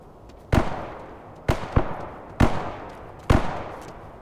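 Distant gunfire in the video game The Day Before, four or five sharp isolated reports spaced about a second apart, each with a short fading tail over a low background hum.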